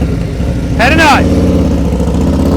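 A motorcycle engine under throttle during slow-speed riding practice holds a steady, low, rumbling drone throughout, briefly overlaid near the start by a short, higher, warbling burst.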